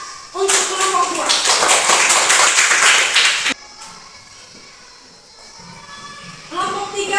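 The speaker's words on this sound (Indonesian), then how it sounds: "Tepuk tangan untuk kelompok 2." A burst of clapping from a classroom group fills the first few seconds, then fades out, leaving murmuring and movement before a few claps return at the end.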